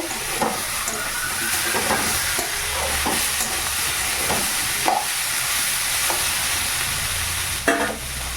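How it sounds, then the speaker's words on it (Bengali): Tomatoes fry in oil in a pan with a steady, loud sizzle, broken by occasional scrapes and stirring clacks, and no voices over it. "টমেটোগুলো দিয়ে দিচ্ছি টমেটোগুলো দিয়ে একটু ভাজবো"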